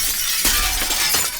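In the video game Teardown, a glass-made character shatters in bright, crackling bursts of breaking glass, with a sharp crash partway through and another burst near the end, loud and close.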